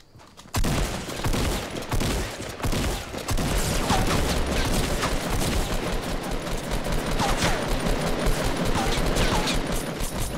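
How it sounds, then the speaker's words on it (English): Rapid gunfire from a video game battle in Fortnite crackles in dense, overlapping bursts that continue loud and close for the whole stretch after a brief quiet start. "Oh my god, somebody shot me."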